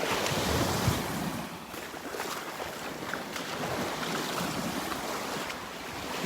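Surf washes continuously onto the beach at Delnor-Wiggins Pass State Park, a broad steady roar of breaking waves mixed with strong wind noise on the microphone.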